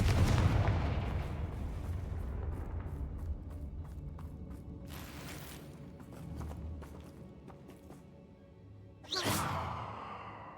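A Confringo fire spell from Hogwarts Legacy erupts in a sharp, bright blast near the end, over a steady low rumbling bed of combat ambience with a few softer bursts earlier.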